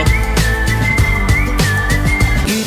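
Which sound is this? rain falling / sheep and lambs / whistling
whistling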